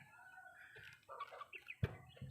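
A chicken clucks softly a few times nearby, with brief rustling and a sharp thump, against quiet background.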